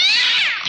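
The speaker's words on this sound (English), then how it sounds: "There's a cat outside my door." A cat meows and caterwauls just outside a door in a loud, drawn-out, wavering cry that sags in pitch and fades toward the end, with no talking.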